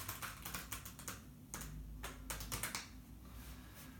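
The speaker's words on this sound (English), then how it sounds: "Shift these cards to shuffle back in." Playing cards are shuffled during a close-up card trick, giving a quiet, quick run of crisp clicking flutters in short bursts, faint and close, with no talk.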